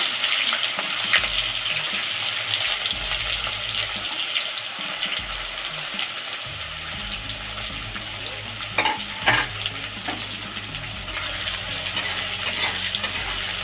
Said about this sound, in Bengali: এবার আমি দেবো পেঁয়াজ